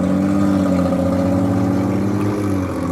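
A loud, close car engine drones and revs steadily with a rough, throaty tone, no talking over it.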